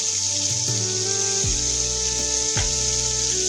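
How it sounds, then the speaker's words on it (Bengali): Sesame seeds fry with tomato in a hot pan, a continuous frying hiss with faint tonal hums and a few soft knocks underneath. "তিলগুলোকে হালকা এরকম করে সামান্য টমেটোর সঙ্গে একটু ভাজা করে নিতে হবে"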